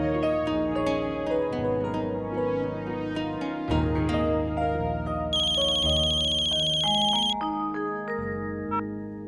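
A melodic phone ringtone plays continuously, a bright synthesized tune with a piercing high tone partway through, loud and unanswered, in a TV drama scene.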